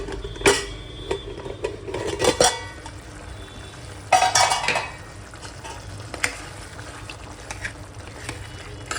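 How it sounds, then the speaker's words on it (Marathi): Mutton and masala cook together in a pot, with metal spoon-on-pan scrapes and clinks in a few clustered bursts over a low simmering background, close by and without talk. "2 मिनटं आपण परत ते एकत्र शिजवून देऊया"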